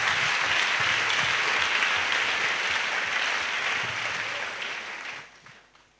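A church congregation claps for Jesus during a spiritual warfare sermon on prayer, with dense, loud, sustained applause from a crowd that fades out over the last second.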